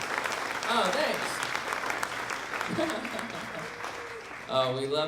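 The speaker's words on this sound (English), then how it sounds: "we love the "he doesn't suck" applause" Live-show audience applause rolls along under talk and vocal sounds, fairly faint and steady, with a voice rising over it near the end.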